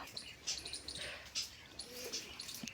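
Soft pigeon sounds from a male pigeon and its chicks, faint intermittent chirps and squeaks in short bursts with quiet gaps, close by in a still space.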